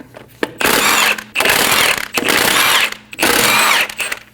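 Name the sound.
power tool with 17mm socket removing lug studs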